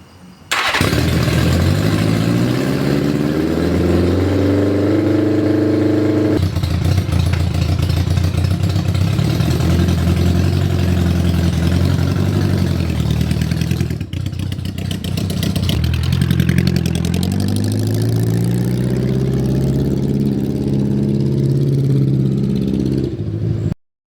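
A Honda Goldwing bobber motorcycle engine starts and settles into a loud, steady, close idle, with a slight blip in revs partway through and then a return to an even rumble until it cuts off.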